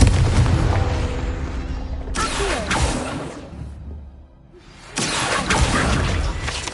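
Hogwarts Legacy's Confringo blast spell on PS5 goes off as loud booming explosions with whooshing bursts, coming in two or three heavy waves with a brief quieter lull between them.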